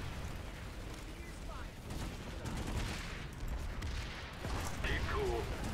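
Gunfire in a shooter video game, with scattered sharp shots and bursts mixed with mechanical clatter under a busy background, faint overall, with a voice speaking over the action.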